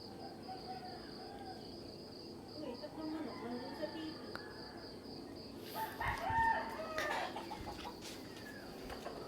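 Chickens clucking and a rooster crowing outdoors over a steady hum of crickets, with a louder flurry of squawking near the end.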